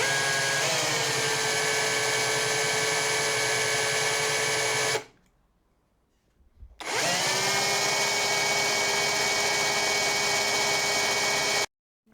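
A Parkside Performance PKHAP 20 Li B2 cordless SDS hammer drill spins freely at a loud, steady pitch, falls silent for about two seconds, then runs again at the same constant whine before cutting off.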